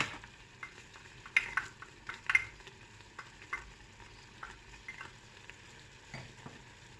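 Spoon stirring chicken with spices, coriander and parsley in a pot, no water added yet; soft scraping and scattered clinks with a couple of louder knocks, a gentle sizzle underneath, close and fairly quiet.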